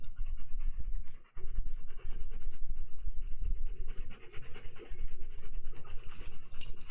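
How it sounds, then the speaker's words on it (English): An animal, apparently a dog, pants loudly and rapidly close by in a steady run of quick breaths with a short pause near the start, faint scratching under it and no talk. "I don't know if you can hear him panting, but because he's really loud"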